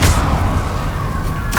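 Confringo fire spell cast in Hogwarts Legacy, a loud blast with a dense low-end rumble at the start, then a sustained roar that fades and a brief sharp burst near the end.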